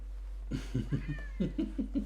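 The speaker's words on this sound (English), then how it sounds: "So the cat." A house cat meows once, close and fairly soft, among low, muffled background sounds in a quiet indoor room.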